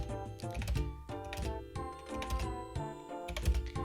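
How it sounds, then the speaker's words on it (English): Loud computer keyboard typing clatters steadily at close range, rapid uneven keystrokes in bursts with brief gaps, set against a low musical backing. "Sorry, my keyboard's really loud."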